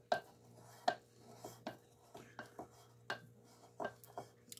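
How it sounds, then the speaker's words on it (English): A utensil scrapes raisin cinnamon bread dough back into the middle of a bowl, giving a string of soft knocks and scrapes against the bowl under a steady low hum, with no talking. "Kind of scraping and putting it all back into the middle"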